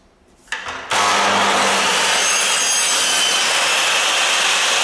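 A power saw cuts door trim at a 45-degree angle for the corners, starting with a few short clicks before the motor roars up into a loud, steady whine that runs without a break.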